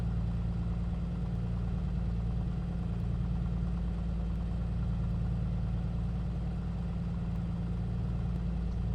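Aircraft engine idling while it warms up in the A2A Accu-Sim flight simulator, a steady, low, throbbing drone that holds even and unbroken, close and alone.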